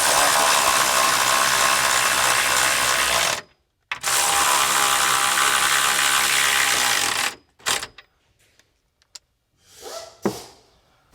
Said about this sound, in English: we're going to run these nuts down snug. Again, this is a 17mm wrench.